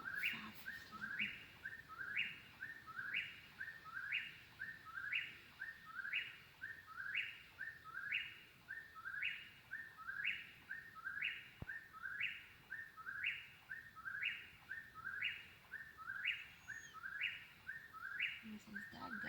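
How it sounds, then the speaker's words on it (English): A whip-poor-will calls over and over in the Ouachita National Forest, its three-part whistled song repeating steadily about once a second, clear but somewhat distant in a quiet outdoor campsite. "I'm recording the whippoorwill."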